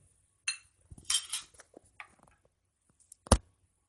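A metal spoon clinks against a pan on the gas stove as two spoonfuls of oil go in for dried-fish chutney; a few sparse, light taps and scrapes with quiet gaps, ending in one sharper clink.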